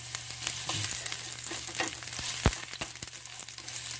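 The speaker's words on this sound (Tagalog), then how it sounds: "Ngayon, mainit na ang mantika. Ilagay ito ang luya." Ginger sizzling and frying in hot oil for pork chop adobo, a steady close crackle with scattered pops and light stirring clicks, no voices.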